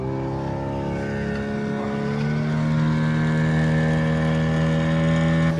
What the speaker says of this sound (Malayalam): മാംഗ്രോവ് ഫോറസ്റ്റ് ലക്ഷ്യമാക്കി നമ്മുടെ ബോട്ട് പോയിക്കൊണ്ടിരിക്കുകയാണ്